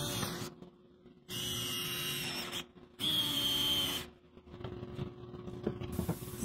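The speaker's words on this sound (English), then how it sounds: "I'm pre-drilling these holes using a scrap piece of wood." A power drill pre-drilling holes in wood whirs in two sustained bursts with a high motor whine, separated by short pauses and followed by scraping and handling noises.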